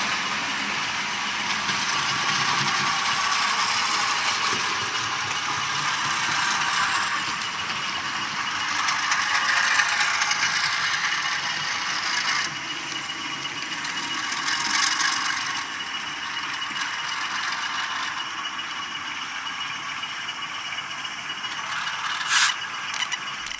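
Bachmann RS-3 model locomotive with a TCS WowSound decoder, its diesel engine sound throttling back from high toward idle, a steady close mechanical rumble with faint clicking, no talk.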